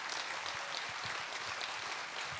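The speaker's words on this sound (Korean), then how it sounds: "박수하겠습니다." A congregation at a Baptist church's Wednesday worship service applauds its singers, a soft, continuous patter of many hands heard from a distance with a few sharper claps standing out.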